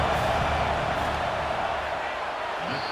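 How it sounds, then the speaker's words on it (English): College football stadium crowd at Florida State versus North Carolina, a loud, steady roar of cheering and noise during a field goal attempt, with a voice talking over it. "This crowd trying to do its part to get inside the kicker's head."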